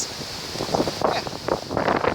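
Blustery wind buffets the microphone in rough, uneven gusts, with rustling and a faint rumble underneath; no one speaks.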